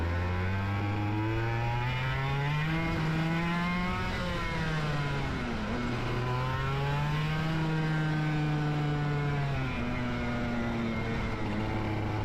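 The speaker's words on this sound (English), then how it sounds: "I'm gonna accelerate and then hit the brakes." A racing kart engine drones loudly nearby, its pitch climbing as it accelerates, dipping and rising again, then falling off as the kart brakes; no talking is heard.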